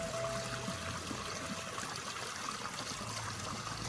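Water gurgles along a village irrigation canal in Uttarakhand, a steady, soft, continuous babbling flow heard alone at low volume.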